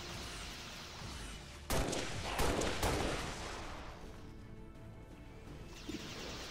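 Gunfire in the video game XCOM 2 Long War: a loud burst of shots and crashing impacts lands a couple of seconds in, then gives way to a steady bed of game ambience.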